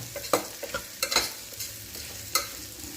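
A spoon stirs mint leaves into millet biryani frying in a pan, giving several soft scraping strokes over a gentle sizzle, close and fairly quiet, with no voices.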